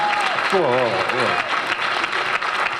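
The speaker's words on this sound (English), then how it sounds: "now y'all clapping like that's a sweet love story or something" Men's Day assembly audience claps in a steady, fairly close round of applause, with a voice speaking over the start before the clapping carries on alone.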